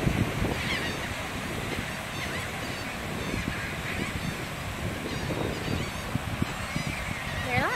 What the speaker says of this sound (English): More birds on this side.